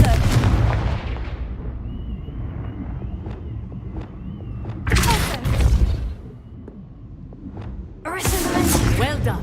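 Spell explosions from Confringo casts in Hogwarts Legacy, loud booming bursts over a dense game soundscape, with two strong blasts near the middle and end and sharp impacts between them.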